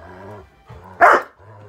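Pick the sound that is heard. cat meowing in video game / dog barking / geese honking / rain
dog barking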